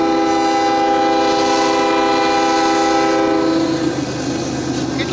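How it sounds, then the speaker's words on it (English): A coal train blows its horn as it passes a crossing, a loud sustained blast close by that holds for about four seconds and then gives way to rumbling wheels and rail noise. "Every time they crossed that crossing, they blew their horn"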